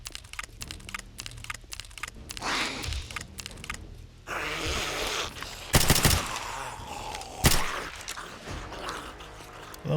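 Shotgun slugs fire in the modded video game 7 Days to Die, a few loud separate blasts with clicking and mechanical handling sounds between them, up close and with no talk.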